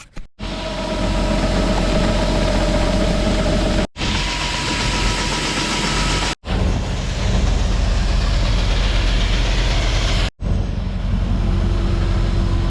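Farm tractor engine runs to drive a grain auger, a steady, close mechanical drone broken by a few abrupt cuts between sections.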